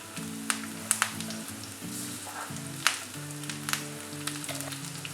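Garlic, dried and green chillies, curry leaves, cardamom and cashews sizzle in hot oil with a steady, close frying hiss, broken by occasional crackles and pops as the pan is stirred, with a faint hum of music underneath.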